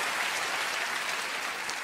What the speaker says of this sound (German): ja, wir dürfen ruhig klatschen.